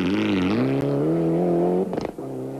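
Mitsubishi rally car driving at a car dealers' rally, its engine holding a loud, steady high drone close by that slightly rises in pitch. A short rough burst of noise follows before the tone settles lower.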